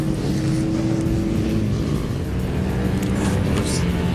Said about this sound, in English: Here comes Ryan Mayfield bringing out the back of the pack on his 150F.